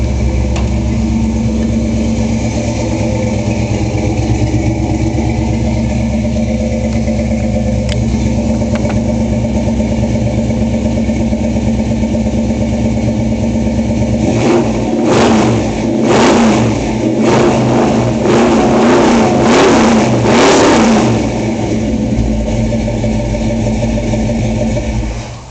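A restored 1976 Ford Bronco with a built motor idles steadily and loudly close by, then gets revved in several sharp bursts around the middle before settling back to a rumbling idle.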